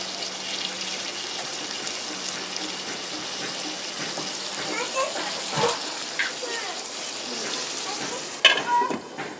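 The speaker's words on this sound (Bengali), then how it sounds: "জল দিয়ে দিব, জল দিয়ে ঢাকা দিব এটাকে সিদ্ধ হওয়ার জন্য।" Water is poured into a pan of fish and bottle gourd curry, giving a steady hiss and gurgle with a few light clinks and a sharper burst near the end.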